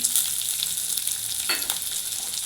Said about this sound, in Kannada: ಎಣ್ಣೆಯಲ್ಲಿ ಈರುಳ್ಳಿ ಬೆಳ್ಳುಳ್ಳಿನ ಫ್ರೈ ಮಾಡ್ಕೊತಾ ಇದ್ದೀನಿ